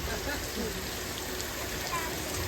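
Artificial rain falling from overhead sprinklers on a Universal Studios Hollywood movie set, a steady, dense hiss of water spraying and splashing that holds evenly for the whole stretch with no break.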